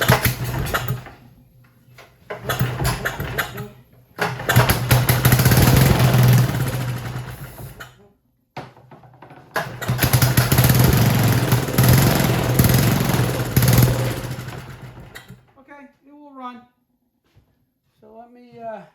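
A Goodall Start All 708 engine, a dump find, fires up and runs in two loud sustained stretches of rough mechanical roar, with a short break between them, then cuts off and leaves a voice talking.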